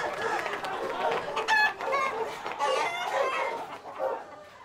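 Several chickens cluck and a rooster crows nearby, overlapping calls in an irregular chorus of a farmyard, fairly loud and close.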